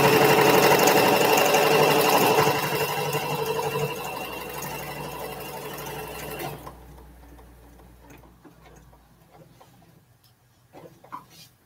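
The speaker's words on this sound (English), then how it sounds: "Sure sounds different when you start going over that thicker interfacing that I've used." A sewing machine stitches over thick interfacing with a loud, steady motor whir and rapid needle ticking. It fades after several seconds and stops, leaving faint clicks and handling noises.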